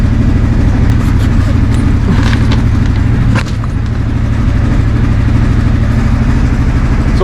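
Four-wheeler ATV engine running in winter, a loud, steady, close idling drone with a constant low mechanical hum that barely varies throughout, with no clear talking over it.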